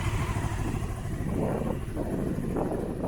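A Honda CB500 motorcycle engine idles steadily up close, with a light metallic clatter from the clutch basket running through its uneven, throbbing rumble.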